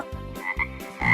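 A frog croaks in a few short, throaty pulses, close and fairly loud, set against a light musical backing.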